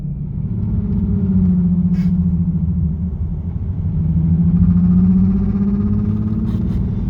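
Nissan 370Z with a muffler delete idling around 2,000 to 2,500 RPM: a deep, close exhaust drone with a rippling flutter, swelling twice in slow waves, loud and alone.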